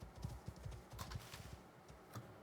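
Horse hooves clop at a steady walking rhythm in the video game Icarus, fairly quiet and without talk.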